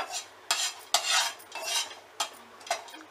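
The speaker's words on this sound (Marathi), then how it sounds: "सुंठ आणि हिंग भाजून घ्यायचं आहे." Dry ginger and asafoetida dry-roasting in a pan, stirred with a spoon in several scraping, rustling strokes, close and moderately quiet.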